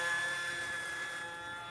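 A small E-flite UMX RC airplane flying at night in wind over houses, a thin steady high-pitched motor whine at a distance, fading slightly, with no talk.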